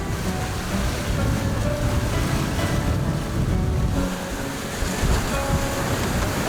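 Wind while sailing a sailboat at sea: a loud, continuous rush of wind and sea noise buffeting the microphone, with no voices over it.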